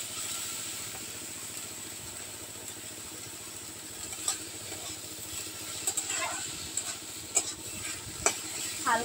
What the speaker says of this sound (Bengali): হালকাভাবে ভেজে নিই,